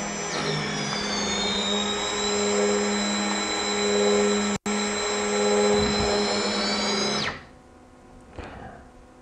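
Small electric motors of a Parrot Bebop 2 drone whir at a steady high pitch for about seven seconds, with a brief cut near the middle, then stop abruptly, leaving near silence and a faint final rattle.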